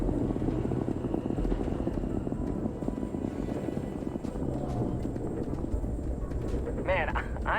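Starship landing in Starfield, a loud, steady engine roar and rumble that stays near and constant, with a short electronic warble near the end and voices talking over it.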